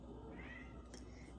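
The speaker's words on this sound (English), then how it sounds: "if you can hear my cat in the background" A pet cat meows for attention, one drawn-out, fairly quiet call followed by a short sharp sound, heard alone in an indoor room.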